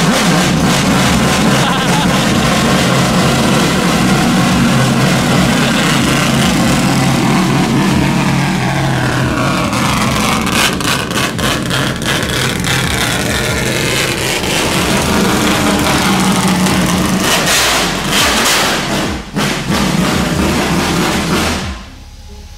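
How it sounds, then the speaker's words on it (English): A 4-rotor Mazda RX7 idles on a cold start, a loud, rough and choppy exhaust burble close by with uneven pulses throughout, then abruptly cutting off at the end. "This is likely one of the loudest idling cars I've ever heard in my entire life."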